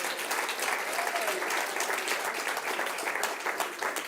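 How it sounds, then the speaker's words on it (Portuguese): A church congregation applauding, a close, dense burst of many hands clapping that stays lively and even for several seconds, with a few voices faintly mixed in. "Vamos dar um aplauso para quem vem cansado para a igreja?"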